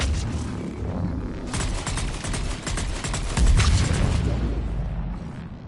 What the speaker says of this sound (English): Oh, the explosion kill him?